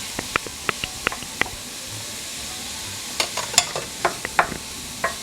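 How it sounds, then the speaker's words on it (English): Sausage and peppers for Cajun shrimp sizzle quietly in a pan, with a scatter of sharp, crisp crackles and clicks early on and denser spattering pops toward the end, no voices present. "So I'm going to go ahead and start putting in the sausage."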